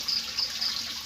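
Water trickles and drips steadily into a tank of catfish fingerlings to oxygenate it, a soft, continuous hiss with light splashy pulses and no talking.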